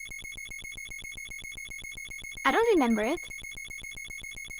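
Castlevania NES low-time warning timer, a rapid steady beeping pulse repeating throughout, with a person briefly talking over it midway.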